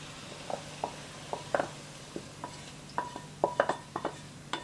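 Browned food scraped and tipped from one pan into another, a run of irregular clinks and scrapes of a utensil against metal over a faint background hiss, close by with no voices.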